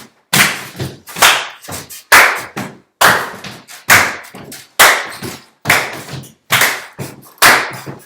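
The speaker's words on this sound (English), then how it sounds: "And then we want to clap. We're clapping." Sharp hand claps ring out in a steady, repeating pattern during a rhythm exercise, loud and close with no voices over them, grouped in short bursts across the count.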